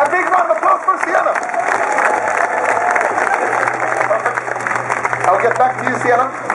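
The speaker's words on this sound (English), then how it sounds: "A big round of applause for Sienna." Street-show crowd in Dublin applauding and cheering a volunteer named Sienna after a magic trick, dense sustained clapping with mixed voices throughout, loud and close.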